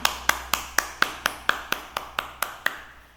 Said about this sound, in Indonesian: Coba beri tepuk tangan kepada siapa ya?